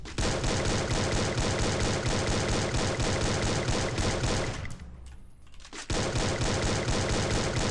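M14 rifle in Garena Free Fire fires in a dense, loud, continuous stream of rapid shots, breaks off for about a second, then resumes at full intensity.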